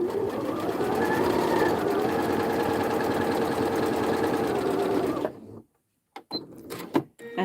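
A Janome sewing machine runs a straight stitch in a loud, steady mechanical whir for about five seconds, then stops, followed by a few handling clicks and rustles.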